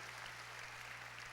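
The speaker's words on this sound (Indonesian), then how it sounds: "Ayo sorak-sorai buat Tuhan yang luar biasa Bapak Ibu." A church congregation cheering and applauding, a steady dense wash of clapping and crowd noise throughout, with no talk.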